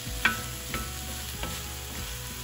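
Svíčková, a Czech dish, sizzles quietly in a pan while a utensil scrapes and stirs in a few soft strokes.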